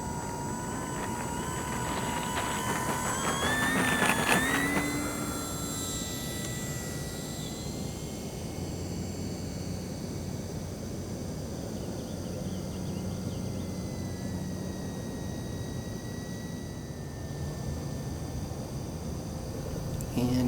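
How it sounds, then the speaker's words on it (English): Electric DuraFly Spitfire Mk2a foam RC warplane touching down on short grass, a steady whirring motor with a brief louder swell early on, then a quieter constant hum carrying on to the end. "And here's our grass landing."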